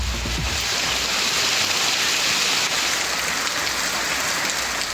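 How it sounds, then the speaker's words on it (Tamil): Moderate rain falls steadily around Periyakulam in Theni district, a dense, continuous hiss of drops on surfaces with no break and no voices. "தேனி மாவட்டம் பெரியகுளம் சுற்றுவட்டார பகுதிகளில் 1 மணி நேரத்திற்கும் மேலாக மிதமான மழை பெய்தது."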